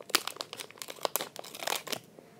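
Plastic blind bag being cut open, a quick run of close crinkly crackles and snips lasting a couple of seconds, fairly quiet and alone.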